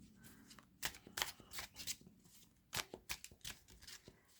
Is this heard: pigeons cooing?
no